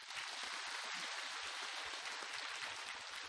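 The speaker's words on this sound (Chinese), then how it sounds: "鼓掌" An audience claps at a live talk event in Macau, a soft, even wash of applause that holds steady throughout and sounds fairly distant and quiet.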